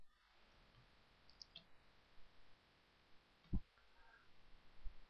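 A computer mouse clicks a few times on a desk, faint and sparse, with one sharper click standing out against a quiet background hiss.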